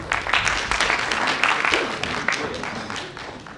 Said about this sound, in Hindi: एक बार फिर से जोरदार ताली बजा दीजिए।